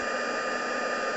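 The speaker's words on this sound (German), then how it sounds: "Wir nehmen den Föhn" Hot-air hair dryer blowing on a pop-up craft card made of dark cardboard, a steady, loud, continuous whoosh that stays even throughout with no talking.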